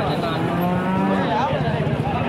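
At a cattle market with HF and Jersey cows and calves, a cow gives a long, low moo among busy crowd noise and overlapping voices.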